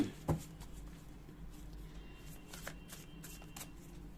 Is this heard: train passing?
no